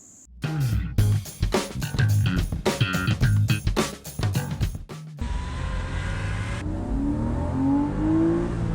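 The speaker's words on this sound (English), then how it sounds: "Oh, it sounds like a Porsche." Rhythmic thumping music, then the engine of a 2000 Porsche 986 Boxster S revs up, its pitch climbing steadily, close and loud.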